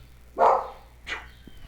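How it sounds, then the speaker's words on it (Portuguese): A dog in the house gives two barks, the first louder and fuller, the second shorter and weaker a half second later, at moderate distance over a quiet room. "Desculpa aí o cachorro latindo, tá?"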